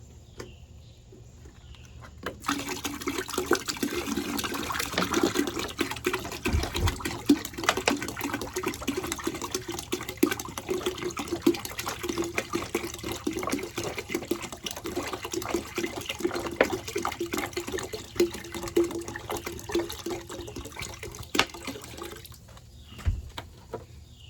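Water gushes steadily into a garden container, roughly five gallons, with a continuous splashing fill lasting about twenty seconds before cutting off.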